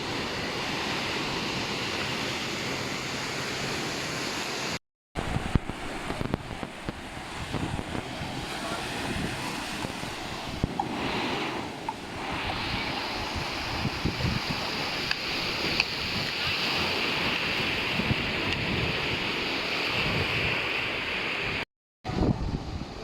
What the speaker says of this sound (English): The sea is super wavy.